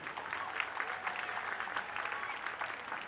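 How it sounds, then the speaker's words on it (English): Steady crowd applause at an outdoor holiday tree lighting event, a continuous patter of many hands clapping, fairly faint and distant. "Let's give them applause tonight,"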